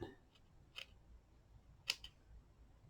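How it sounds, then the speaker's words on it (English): Sharp scissors snip craft material for a multimedia wall decor piece, with a few faint, crisp cuts spaced over a quiet background. "I'm just going to snip it."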